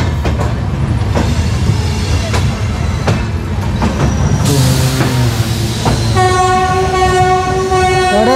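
Samta Express passenger train pulling out of Nizamuddin station, with loud, steady rumbling of the rail cars and a long, sustained train horn blaring near the end.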